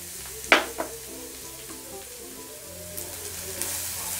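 Potato filling mixed with grated beetroot fries in a pan with a steady, close sizzle. A spatula clanks against the pan early on, followed by softer stirring strokes, with no talking.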